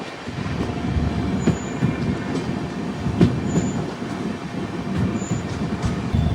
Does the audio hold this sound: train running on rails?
yes